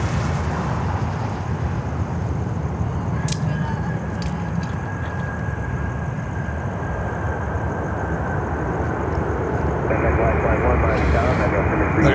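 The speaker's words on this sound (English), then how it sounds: "There is an aircraft taxiing" An Estafeta Boeing 737 taxiing at Miami airport, a loud continuous engine roar with a steady whine that steps up in pitch near the end.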